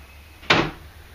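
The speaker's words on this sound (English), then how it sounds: "That door makes a lot of noise clicking like that" A single short door click with a brief rattle, fairly faint, in an otherwise quiet room.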